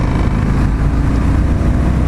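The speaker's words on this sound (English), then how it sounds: "I'm gonna put this in 6th gear just because I want, and I'm going at 70 kilometers an hour" Indian FTR 1200 motorcycle riding in sixth gear, a loud, steady low engine drone close up with wind roar over it, pulling smoothly without gaps.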